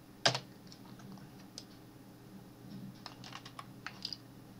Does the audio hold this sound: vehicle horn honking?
no